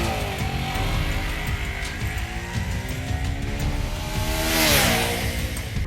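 Ducati motorcycle engine under way, a loud continuous drone with rising and falling revs and a sharp climb in pitch near the end, heard up close with no talking.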